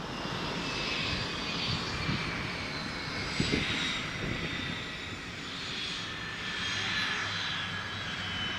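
A Learjet takes off at Leeds Bradford Airport with a steady, loud jet engine roar that holds fairly constant and swells slightly toward the end.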